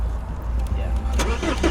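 The diesel engine of an older BMW E60 520d starts with a brief crank and then catches into a rough, gruff idle. A voice talks over the sound.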